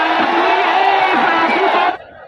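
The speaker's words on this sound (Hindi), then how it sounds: "हर बाउंड्री इस पर तालियां बजती है" Loud crowd noise at a village cricket final in the JPL 2 Sikri Jhantli tournament, with cheering, shouts and whoops that stay strong and then cut off sharply near the end.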